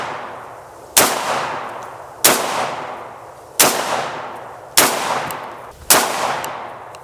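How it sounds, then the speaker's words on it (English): A shotgun firing Federal buckshot at an outdoor range booms five times at spaced, even intervals, each sharp loud blast trailing into a ringing decay, with no talk. "we were shooting federal double-lock buckshot"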